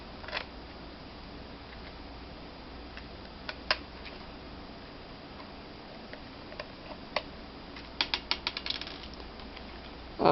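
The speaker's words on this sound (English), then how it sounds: "you can watch me turn a screwdriver" Screwdriver turning screws on a Toshiba laptop, faint soft ticks and small ratcheting clicks scattered across a quiet background, clustering into quicker clicks near the end.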